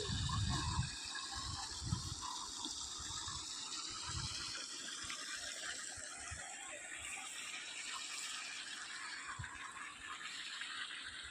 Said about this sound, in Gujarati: જવારમાં પાણી ચાલુ કરતી જો